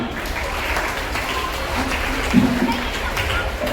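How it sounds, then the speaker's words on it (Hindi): Applause from a crowd at a Guru Purnima felicitation ceremony at a school, a steady patter of many hands clapping at a moderate distance, with voices mixed in. "एक बार जोरदार तालियां।"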